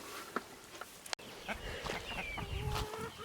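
Farm chickens cluck in brief, faint calls over outdoor background noise, with goats kept nearby.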